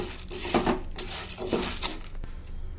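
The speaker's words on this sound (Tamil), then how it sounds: "இதையும் நல்ல கோல்டன் கலர் வர்ற அளவுக்கு வறுத்துக்கலாங்க" Chana dal roasting in a pan for idli podi, the lentils rattling and scraping against the metal as they are stirred, in close, repeated bursts.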